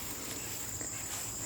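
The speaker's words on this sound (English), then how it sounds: "There's lots of grasshoppers and crickets here" Crickets and grasshoppers chirp steadily in a dry hay field on a farm, a continuous high-pitched trill that is moderately loud and unbroken, with no voices.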